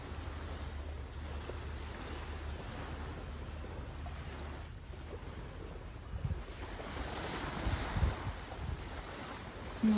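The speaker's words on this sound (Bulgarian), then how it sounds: "Много се надявам, че чуваш гласа на вълните." Ocean waves washing onto a sandy beach, a soft continuous surf wash with a gentle swell building near the end, faint and distant with light wind, no talk.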